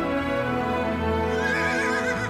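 A war horse gives a long, drawn-out whinny under a swelling orchestral film score, the neigh rising and wavering in the middle of the sustained music.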